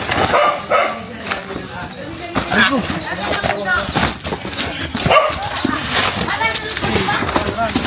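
A dog barks repeatedly nearby amid busy outdoor noise, with people talking and calling out over the barking.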